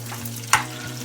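Tamarind and spices fry in an open, uncovered pan for a preserved chilli pickle, with a steady low sizzle and a sharp scrape of stirring just past halfway.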